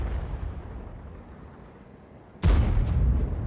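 Artillery fire in the tank battle game World of Tanks: a low rumbling battle ambience, then one sudden loud booming blast that keeps rolling on to the end.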